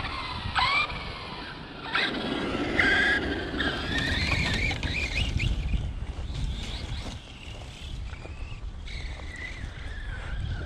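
Arrma Mojave RC car with an X-team 3270kv motor on 4S, bashing outdoors: high whining motor squeals rise and fall in bursts over rough rumbling, with some wind noise.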